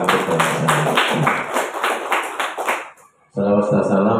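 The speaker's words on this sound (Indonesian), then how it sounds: "Tepuk tangan untuk para peserta." Enthusiastic applause from a crowd fills the room, steady and loud, then cuts off briefly before a voice begins speaking.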